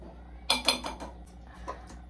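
Metal pots and pans clatter and clink in a home kitchen, a short burst of several bright crashes followed by a few fainter rattles, with no talking.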